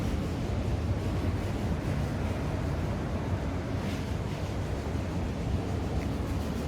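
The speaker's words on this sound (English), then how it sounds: "You can hear the ocean. Sorry, sea." Sea waves heard from a seaside cafe, a continuous broad wash of surf with some wind rumble on the microphone, steady and moderately loud with no voices.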